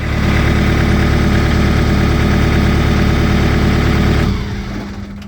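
A loud LS tractor engine idles with a steady, throbbing rumble, then shuts off abruptly with the kill switch and winds down near the end.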